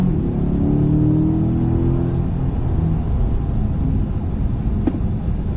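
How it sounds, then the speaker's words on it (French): Car engine revving up as the driver accelerates during a driving lesson, a loud droning rise in pitch that levels into a steady rumble, with a brief faint tick near the end. "Fais les gaz, on est droit quand tu accélères plus franchement."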